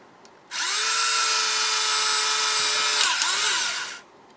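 A power drill runs close and loud for about three and a half seconds in one steady high whine, dipping briefly in pitch near the end before stopping.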